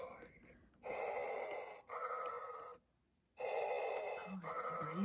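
Electronic breathing sound from a Star Wars Transformers toy that turns into the Death Star, heard as slow, loud mechanical breaths in close succession with a brief silent pause between them.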